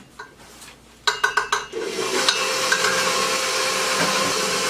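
An electric mixer whirs steadily, blending sourdough bread ingredients in a bowl; it follows a quick series of four or five sharp clanks on metal, and then the motor runs loud and continuous.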